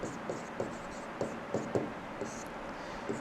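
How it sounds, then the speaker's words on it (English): Hand-writing notes while teaching refrigeration, with a pen scratching and tapping in short strokes, several sharp contacts spread across a few seconds over a quiet room hum. "let me write it here"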